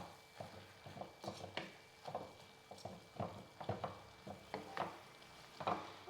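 Cooked tomato masala being mixed in a pan, a spoon scraping and stirring in an uneven rhythm of soft close strokes over a faint background.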